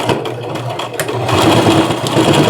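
A sewing machine stitches saree fabric into a maxi dress, its motor whirring in a steady, continuous run close by with no pauses.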